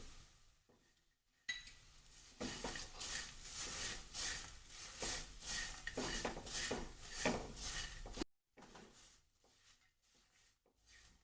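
Leftover roti chevdo is tossed with spices, chaat masala and powdered sugar in a pan, producing a dense run of close, rapid scraping and rustling strokes that stops abruptly and is followed by quieter clatter.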